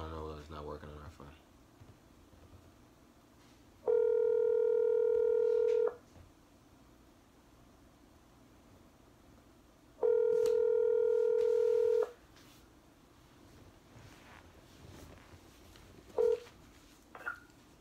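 Two long touch-tone dialing beeps sound on a phone call, each lasting about two seconds with a pause between, followed by a short faint blip, over quiet background.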